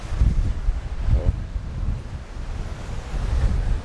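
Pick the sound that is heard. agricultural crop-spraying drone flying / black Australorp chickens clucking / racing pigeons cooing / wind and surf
wind and surf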